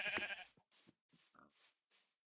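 Sheep bleating in the Minecraft video game: a run of short nasal bleats and grunts, four or five separate calls spaced about half a second apart, close and moderately loud with no talk over them.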